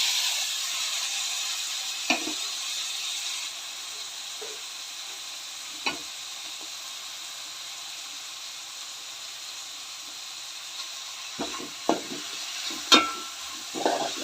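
Onions and tomatoes frying for a toddy-shop style country chicken roast, a steady sizzle and hiss with occasional spatula knocks, the stirring growing busier toward the end.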